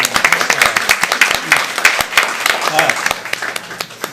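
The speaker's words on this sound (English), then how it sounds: "How about a big round of applause for" A round of applause fills a city council meeting chamber, many hands clapping steadily for about four seconds with a voice speaking over the start.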